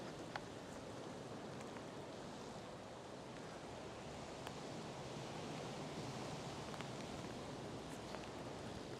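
Steady rain and wind outdoors at a lakeside holiday park in England's Lake District in winter, a dense continuous hiss of falling rain and gusting air with faint scattered drops, even and unbroken throughout.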